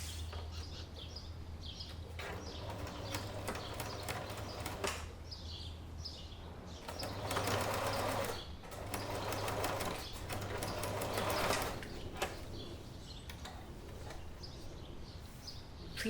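A sewing machine stitches the seam allowance on a pair of pleated pants with welt pockets, its rapid mechanical chatter coming in several bursts that start and stop over a steady low hum.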